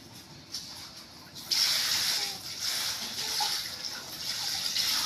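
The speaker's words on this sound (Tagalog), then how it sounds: "Gawaing bahay number 1, maghuhugas ng plato." Running tap water splashes onto plates while dishes are washed at a household sink, starting quieter then gushing steadily after a faint knock.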